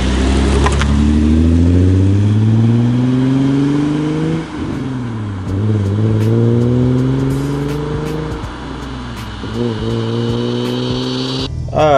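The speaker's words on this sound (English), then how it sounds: "let's see what we have with this exhaust. And it sounds like it's a little bit more throaty" Hyundai Genesis Coupe fitted with a catback exhaust accelerates through several gears, the engine note rising in repeated sweeps with brief dips at each shift, loud and close from inside the car.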